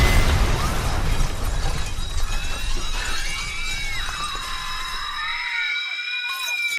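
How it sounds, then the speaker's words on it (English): A loud blast from a packed coffee shop in a film scene, a sustained roar of shattering debris with screams and crowd noise that gradually thins toward the end. "a loud explosion coming from the coffee shop"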